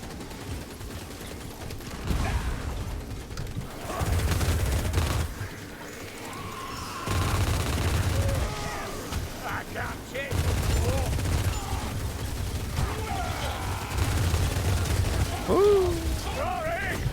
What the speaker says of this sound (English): These couple of Gatling gunners are being a real nuisance.